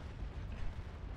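Ship cannons fire in Naval Action during a port battle at Puerto Plata: a low, rumbling barrage of distant booms blending into a continuous roar, loud and unbroken across the moment.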